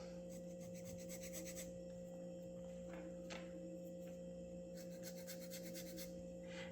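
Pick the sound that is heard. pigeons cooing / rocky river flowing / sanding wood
sanding wood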